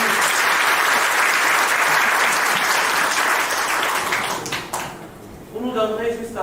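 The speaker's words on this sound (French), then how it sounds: "Nous pouvons applaudir pour madame" Loud applause from guests at a civil wedding ceremony in a town hall, honouring the bride's witness; steady dense clapping for about four seconds, then fading as a voice begins speaking.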